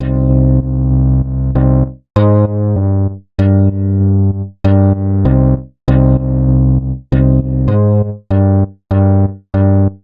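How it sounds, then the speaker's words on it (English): Synth bass built from a bass guitar preset in Europa within Reason 11, lightly distorted with Pulverizer and driven by a scales and chords player: a loud, punchy sequence of separate plucked bass notes in a steady rhythm, heard alone. "this sound here that I made using a bass guitar preset in"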